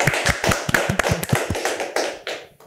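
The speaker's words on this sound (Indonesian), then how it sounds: "Kita kasih tepuk tangan dulu kali ya." Audience at an Indonesian election talk show claps, a loose run of distinct, close hand claps in an irregular rhythm that slows and trails off after a couple of seconds.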